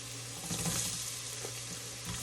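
Onions fry in a pan at home, a soft, even sizzle that holds steady throughout with a faint low hum beneath it.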